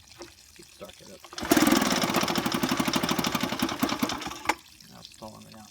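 A 1968 Sears Clinton 3.5 hp small engine fires up abruptly and runs with a rapid, buzzing putter for about three seconds, then stalls and cuts out, with voices faintly around it.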